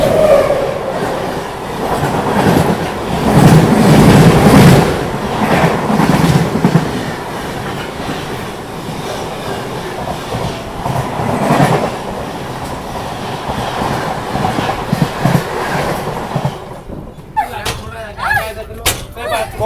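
The Varanasi-to-Mumbai Mahanagari Express rushes past on the opposite track, a loud close rumble with rhythmic clickety-clack of passing wagons that fades out, while people talk inside the moving train.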